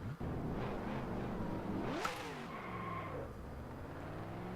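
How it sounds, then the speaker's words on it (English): A car engine in a video game revs up and drones steadily, with a whooshing rise midway before settling into a smooth, moderate hum. "let's get in our car."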